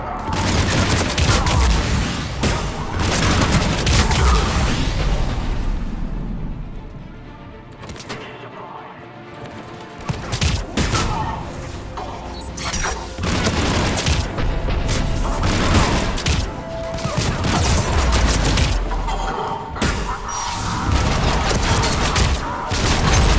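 Heavy cannon fire and explosions rumble through a Mass Effect 3 battle for the Krogan resistance, dense and continuous with repeated booms and gunfire, dipping briefly mid-way before surging again.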